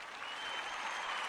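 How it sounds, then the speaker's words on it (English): Brief round of applause from a small gathered audience during a morning talk show, a soft, even wash of clapping that holds steady and is fairly faint. "Give yourself a round of applause"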